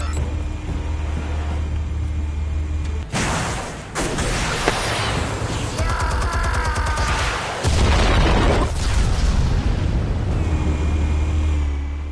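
Explosives detonating in Batman: The Telltale Series video game, a loud deep boom and rumbling blasts with debris in the middle, set against a continuous low droning hum, no talking.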